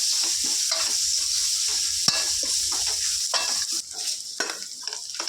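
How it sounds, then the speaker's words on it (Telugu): Ginger-garlic paste with turmeric fries in a pan, giving a steady close sizzle with a continuous oily crackle and occasional scraping stirs, running throughout with no voices. "అల్లం వెల్లుల్లి పేస్ట్ పచ్చివాసన పోయేంత వరకు ఈ విధంగా ఫ్రై చేసుకోవాలి"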